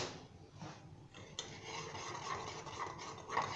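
Cheese sauce with a little yellow food colouring stirred in a pan, a steady scraping swirl of spoon against metal, close and moderately loud, with no voices.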